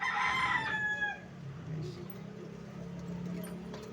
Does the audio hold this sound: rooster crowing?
yes